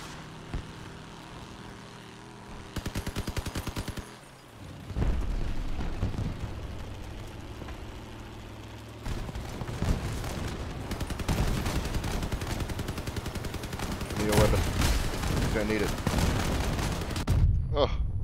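In a video game, cannon fire and explosions rumble and boom in dense, layered bursts for most of the stretch, with sustained roaring engine-like noise and rapid repeated firing.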